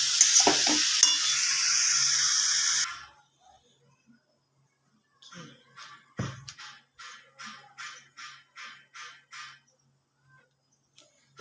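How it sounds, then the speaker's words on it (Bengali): Fish and cabbage fry side by side in a pan with a loud, steady sizzle that stops after a few seconds, followed by faint, evenly spaced tapping. "এক পাশে বাঁধাকপি বসিয়েছি, এক পাশে মাছ করে নিচ্ছি"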